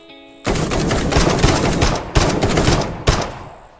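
Rapid gunfire in an Uncharted-style third-person shooter video game, three loud close bursts of rattling shots with sharp onsets, with no talking.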